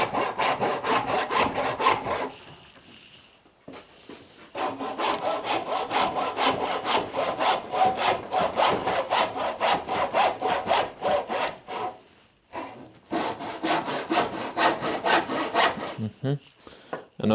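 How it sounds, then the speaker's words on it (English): Hand saw cutting out openings in the wooden structure of an old sailboat under restoration, with long runs of steady, rhythmic back-and-forth strokes, close and loud, broken by a few brief pauses. "I think we're simply just going to saw it out like this"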